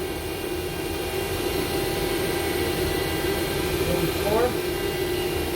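A 2020 Haas VF-2SS CNC vertical machining center runs its spindle at 2,000 RPM, giving a steady, even mechanical hum with a faint tonal whine throughout; a voice speaks briefly near the end.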